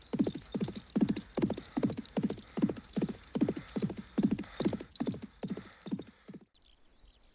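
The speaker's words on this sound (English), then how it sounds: "Jason's horse." A horse's hooves clip-clop in a steady, even rhythm of about a dozen near, fairly loud strikes, then stop abruptly into near-silence.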